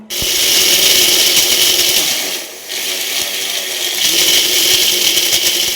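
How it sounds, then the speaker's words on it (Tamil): Mixer grinder pulverizing roasted spices into powder in its jar, a loud continuous whirring roar that briefly drops off mid-clip and then resumes. "இப்போ நம்ம இதை அரைச்சி அரைச்சி எடுத்துக்கலாம்"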